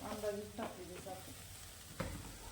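Sugar syrup for morawala, an amla preserve, stirred in a pan over low heat, a few soft scraping strokes with faint sizzling between them, close by and fairly quiet.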